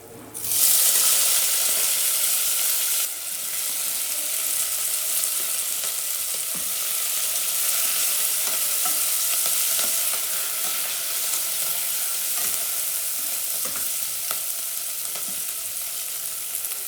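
Whole garam masala and mint leaves fry in hot oil in a pressure cooker, a loud, close, continuous sizzle that flares at the start and holds steady throughout.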